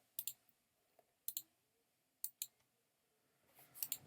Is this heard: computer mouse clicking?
yes